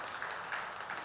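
A church congregation at a Korean Wednesday prayer meeting claps together in a steady, moderately loud round of applause.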